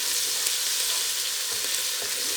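Ginger-garlic paste fries with browned onions in a pan, giving a continuous dense sizzle and crackle with occasional stirring scrapes, close and steady, with no talking.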